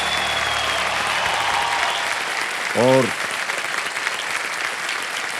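Studio audience applause for a quiz show contestant who quits with 12,50,000 rupees, sustained clapping throughout under a tonal sting; a single short word is spoken midway.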